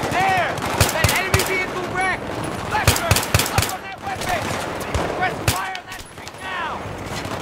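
Mounted weapon fire in Battlefield 3, rapid loud bursts of automatic gunfire with sharp repeated shots and clusters of impacts, layered with a shouting voice and battle noise throughout.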